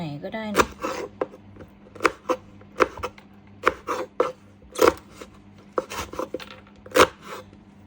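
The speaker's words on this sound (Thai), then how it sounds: "เราก็จะมาหั่นหน่อยเนาะ หั่นเป็นชิ้นพอคำ" A knife chops blanched roselle into bite-sized pieces on a board in irregular, crisp strokes, each cut a sharp tap with brief gaps between.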